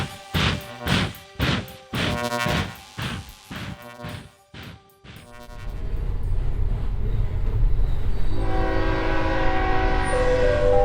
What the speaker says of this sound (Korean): 우리 열차 첫 번째 역 긍정의 무대에 도착했습니다